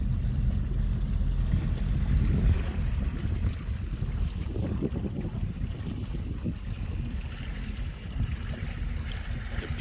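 A Stingray boat cruising slowly through a no-wake zone on the Homosassa River in Florida, with a steady low engine rumble and water and wind wash running continuously and close.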